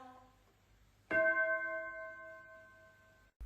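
A single bell is struck once, ringing out clearly with a bright metallic strike and a long sustained hum that fades over about two seconds before cutting off, with no talk over it.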